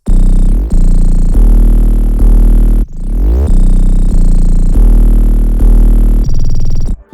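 A CTM drum sample in FL Studio, processed through Effectrix with a classic sample-reducer effect, plays as loud, heavily distorted bass-heavy hits with sudden pitch sweeps and choppy stuttering cuts.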